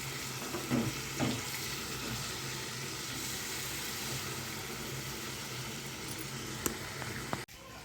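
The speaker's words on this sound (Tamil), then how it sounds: "இப்படி மாற்றி மாற்றி திருப்பி போட்டு வேக வச்சுக்கோங்க ஸ்லோவ்லேயே" Tandoori chicken pieces fry slowly in a pan on the stove, a constant soft sizzle with a few utensil knocks and turning clicks near the start and one sharp clatter just before the end.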